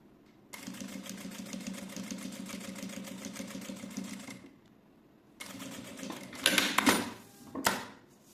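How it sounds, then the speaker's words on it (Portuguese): An electric sewing machine runs in a steady stitching burst, stitching a seam around the edge of a fabric piece. It pauses briefly, then restarts with louder clattering handling noises. It is close and fairly loud, and no one talks. "Agora eu vou passar uma costura na bordinha em toda a volta dessa peça."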